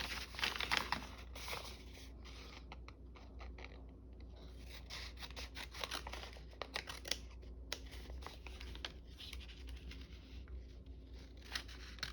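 Scissors snip through paper being cut into journal pockets, giving a string of quiet, close, irregular crisp clicks and rustles over a soft background hum.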